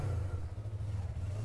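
A new motorbike's engine idling smoothly with a low steady hum, faint and continuous for a short moment, with no voices.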